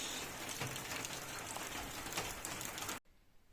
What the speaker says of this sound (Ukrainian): І знову дощ.